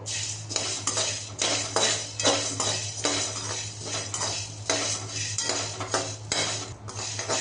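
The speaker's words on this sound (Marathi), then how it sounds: "आपलं लवंग आणि मिरे छान भाजून झालेले आहेत" Whole cloves and black peppercorns roast in a dry pan with a little oil while a metal spoon stirs them. Scrapes and clinks repeat quickly against the pan over a steady low hum.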